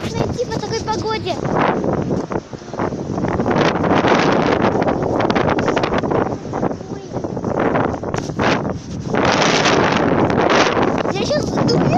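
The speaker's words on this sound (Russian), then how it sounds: "Капец, какой ветер, даже страшно идти по такой погоде." Strong wind roars and buffets a handheld microphone outdoors on a cold Halloween, with loud gusts swelling and dropping continuously across the whole stretch.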